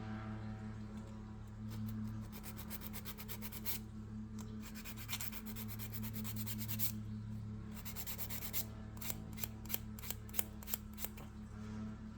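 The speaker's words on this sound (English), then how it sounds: "go over where the nail tip meets the nail and just buff that carefully" Faint, quiet rubbing and scratching as a buffer works over the seam where an artificial nail tip meets the natural nail, in uneven short strokes with a few sharper ticks near the end and no talking.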